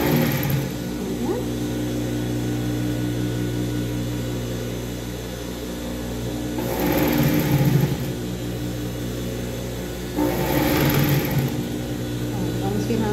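A sewing machine stitches a children's outfit of shorts with bias trim and a cropped top, giving off a steady mechanical hum with a pulsing rhythm and two louder bursts of running partway through.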